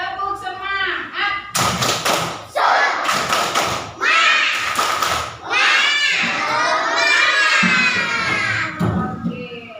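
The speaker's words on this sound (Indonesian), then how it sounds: "Oke, sebelum kita mulai kita tepuk semangat dulu." A classroom of children does a rhythmic spirit clap, loud bursts of clapping in patterned groups mixed with chanting young voices, close and lively with a teacher's voice at the start.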